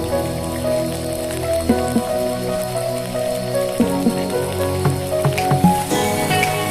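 Peanuts and curry leaves frying in hot oil for lemon pulihora, a steady close crackling sizzle scattered with sharp pops and spatters, with no one speaking.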